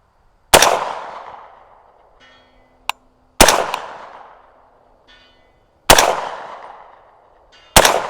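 A rifle fires four sharp, loud shots at a target 300 yards away. Each crack is followed by a decaying rumble, and faint distant impact sounds come between the shots.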